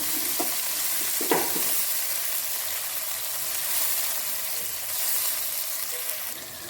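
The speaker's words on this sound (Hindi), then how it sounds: "और अब मैं इसके अंदर मीडियम साइज़ की प्याज शामिल कर रही हूँ। इसको हम हल्का सा सौते कर लेंगे।" Chopped medium-sized onion frying lightly in a little oil in a pan, a steady soft sizzle with a few stirring scrapes and clinks, close and moderately quiet, no one speaking.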